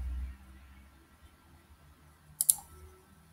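Mouse clicks in CAD software while modeling a 3D-printed fidget spinner bearing and caps: a brief quick pair of sharp, close clicks near the end, over faint room hum.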